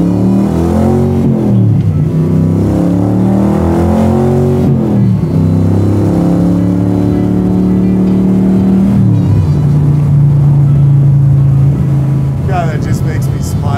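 A Shelby Cobra MkIIIR with a 7.3L Godzilla V8 cruising at about 3,000 rpm in fourth gear, a loud, deep, steady engine drone with pitch shifts through the middle, while someone talks over it.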